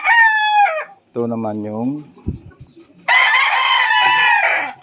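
Boston Roundhead chickens crow and cluck close by in a backyard flock, a long crow, clucks and a second crow, with a voice speaking briefly between them.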